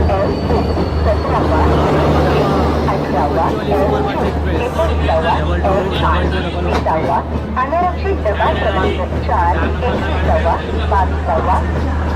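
The Kochuveli SF Express 22113 on the Konkan Railway rumbles steadily beneath a crowd of chattering voices, with a faint metallic squeal as it slows into a station, close and loud throughout.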